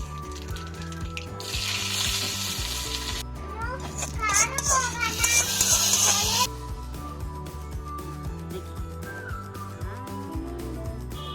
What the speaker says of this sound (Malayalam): ചൂടായിട്ടുണ്ട് ഇനി നമുക്ക് കടുക് പൊട്ടിക്കാം